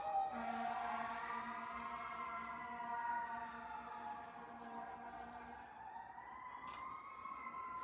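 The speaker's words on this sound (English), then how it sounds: "there's been a lot of sirens going off lately, actually, around here" Emergency vehicle sirens wail outdoors at a distance, a steady rising and falling howl with several overlapping tones that continues the whole time, faint and without speech.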